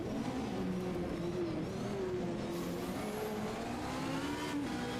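A race car at a European Hill Climb Championship round powers out of a hairpin, its engine note climbing steadily as it accelerates hard up the incline, loud and continuous without any voices.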